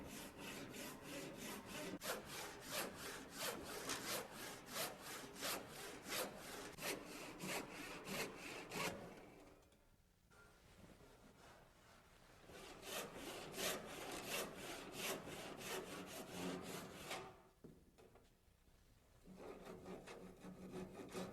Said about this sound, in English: I'll make the cut with a sharp 12-point cross-cut saw.